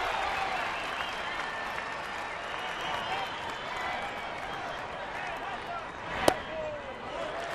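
An Easter Sunday ballpark crowd at a baseball game, Chattanooga at Detroit, murmurs and cheers in a steady wash, with a single sharp crack late on.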